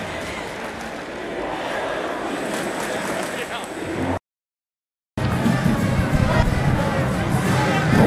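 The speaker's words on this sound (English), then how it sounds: "something more to cheer about in the second half for these fans cheering on Hawaii here tonight" A stadium crowd of Hawaii fans roars steadily at a night college football game at Michigan Stadium, a broad continuous wash of cheering that cuts out for about a second and then returns louder, with a commentator talking over it.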